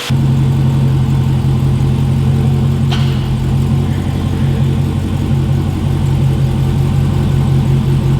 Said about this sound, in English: they are spraying off all the water with high pressure air